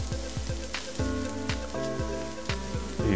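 Raw lamb shank, about a kilo, hitting a hot soup pan and sizzling steadily and loudly up close, with a few sharp clatters of handling over the hiss.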